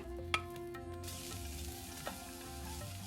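Brinjal and bitter gourd fry in oil in a steel pan, giving a steady close sizzle with a couple of sharp clinks from stirring.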